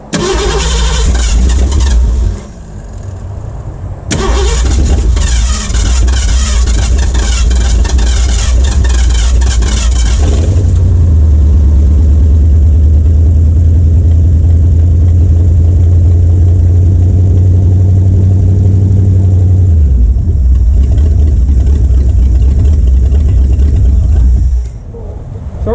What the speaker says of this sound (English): So we should have to start it again, and then we might be able to let it run for a couple seconds anyway